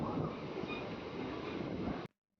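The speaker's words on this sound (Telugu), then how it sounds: "ఉండి స్టేషన్ నుంచి మన ట్రైన్ బయలుదేరింది." A passenger train running between Undi and Bhimavaram Town, heard from onboard as a steady broadband rumble and rattle of carriages that stops abruptly near the end.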